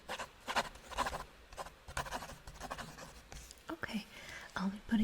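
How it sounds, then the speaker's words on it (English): A pen scratches across paper during a quiet, close-up ASMR session, with soft irregular strokes in short bursts and faint whispering in the background. "let me just write that down"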